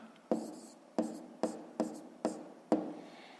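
Pen writing numbers by hand on paper for a decimal subtraction exercise, six crisp scratchy strokes at a steady pace, close and moderately loud.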